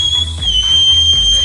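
A long, steady high whistle sounds as an effect in a narrated Filipino aswang horror story. The tone holds level through the clip over a low background rumble.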